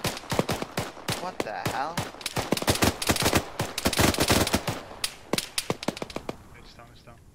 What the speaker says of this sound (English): my shots are shooting way above